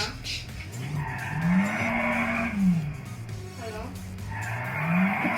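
Tires squeal in long rising and falling skids over a droning engine in GTA 5, loud and close, repeating across the clip.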